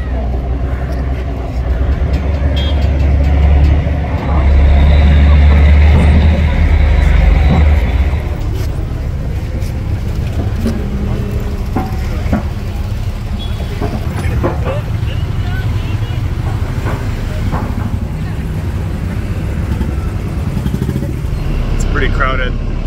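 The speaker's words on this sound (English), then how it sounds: "waiting for all the rest of the vehicles to load up" Motorcycles and other vehicles idle and creep aboard the crowded Fort Vypin ferry in Kochi, a continuous low engine rumble with a louder revving stretch early on and people talking throughout.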